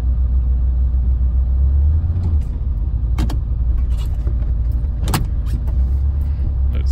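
A Chevrolet C10 pickup truck engine idling close up, a steady low rumble with a few clicks and clanks from the vehicle, no voices.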